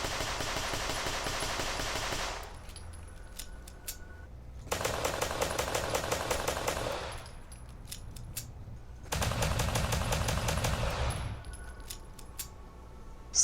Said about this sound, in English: The current version of the mod also comes with custom sounds,